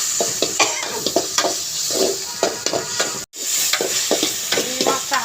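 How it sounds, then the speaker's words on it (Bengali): Small ground shrimp with garlic fry and sizzle in a pan while a spatula stirs and scrapes in quick, repeated strokes, with a steady hiss underneath and a momentary dropout midway. "চিংড়ি মাছটা হালকা ভাজা হয়েই গেছে।"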